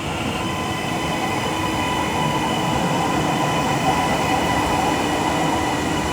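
A TransPennine Express train from Oxenholme Lake District sits at Liverpool Lime Street station, giving off a steady, fairly loud rumble and hum with a faint metallic edge. No one speaks.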